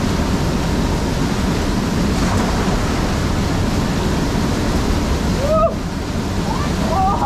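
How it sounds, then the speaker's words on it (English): Steady broadband rush of a waterfall pouring into a bush pool on a Coffs Harbour creek, continuous and close, with a faint birdcall near the end. "The water is flowing, the sun is shining"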